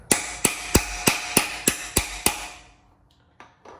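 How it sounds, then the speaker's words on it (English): Hammer blows on an engine part during a 6.0 engine teardown, eight sharp metallic strikes in a steady rhythm, close and loud, followed by a couple of faint knocks. "Let's start hammering this in."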